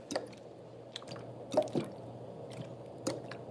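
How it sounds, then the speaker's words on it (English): Soft ASMR water sounds recorded live at a workplace: quiet, sparse drips and wet squishes arriving in small irregular clusters over a low, faint hum. "Do you guys like water sounds?"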